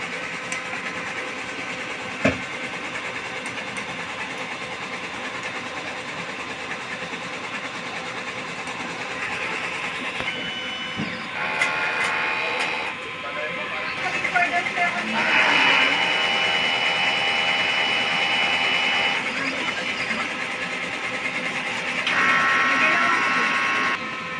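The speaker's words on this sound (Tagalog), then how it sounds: "Head clean." A printer running a print head cleaning cycle gives a mechanical whirring and buzzing hum that shifts in stages, with a sharp click early and stronger motor bursts later, close by.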